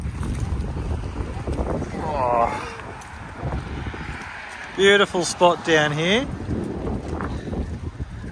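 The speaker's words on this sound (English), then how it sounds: "It's a bit windy, unfortunately." Wind rumbles and buffets the microphone throughout on the New South Wales south coast while someone speaks briefly in the middle.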